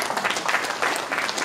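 An audience at a public debate applauds, a brief burst of dense clapping from many hands.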